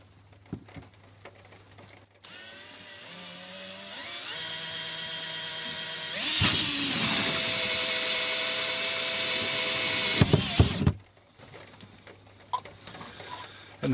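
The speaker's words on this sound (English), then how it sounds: "then we'll get the drill on and drill the hole" Power drill boring a hole through a plastic panel while a 12V USB outlet is installed, a whirring motor that spins up, whines steadily and louder as the bit cuts for several seconds, then stops amid close clicks and handling.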